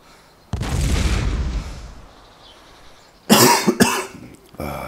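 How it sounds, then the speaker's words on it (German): A character coughs in the survival game DayZ, a low rough hack followed by a fading tail, then a sharper cluster of harsh coughs a few seconds later, close and alone. "Oh, dieser verdammte Husten."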